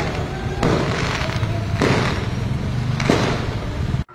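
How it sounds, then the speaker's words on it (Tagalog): Deep booms burst at a steady pace, three or four heavy thuds rolling over a constant rumbling roar, like distant fireworks exploding during a festival. "nakita nga namin tong fireworks na napakaganda habang papunta kami sa palengke"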